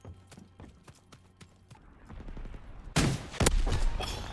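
A rifle grenade launcher fires in Call of Duty WW2 amid gunplay, a string of rapid sharp reports followed by two loud, heavy blasts near the end, with no one speaking.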